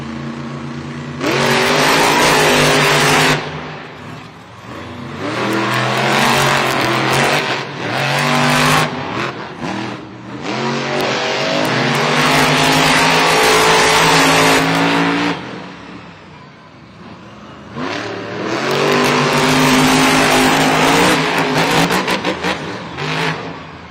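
Monster trucks race side by side across a stadium dirt track, their engines roaring and revving in loud, surging bursts that rise and fall, with crowd noise underneath.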